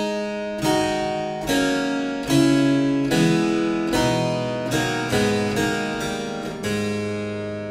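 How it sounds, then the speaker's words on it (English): Three-voice Renaissance-style stretto fuga on a simple two-interval theme, voices entering in close succession an octave below and a fifth above, sustained tones stacking into chords over about eight seconds, with no talking. "This three-voice stretto fuga might start to seem intimidating."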